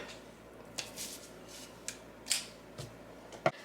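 Scissors cutting a chunk of burlap ribbon from Dollar Tree for a small craft sign: a few separate crisp snips spread over a few seconds against a quiet room.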